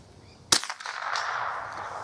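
A single sharp gunshot from a Stevens Favorite 1915 rifle fired outdoors, a loud close crack followed by a rolling echo that fades into quiet ambience.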